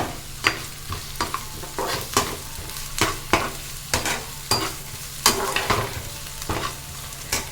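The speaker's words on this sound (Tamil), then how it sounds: "இப்போ கேரட்டையும் எண்ணெயோட வதக்கி விட்டுறலாம்." Carrot strips cut lengthwise sautéing in hot oil for veg noodles, a close steady sizzle broken by regular scraping stirs of a spatula, with no voices.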